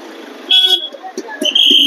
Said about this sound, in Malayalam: വീണ്ടും ട്രാഫിക് കൺജക്ഷൻ